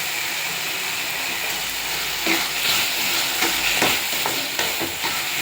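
Chopped capsicum sizzling in a pan with turmeric for kadai paneer, a steady loud frying hiss with scraping stir strokes breaking through in the second half, no talk.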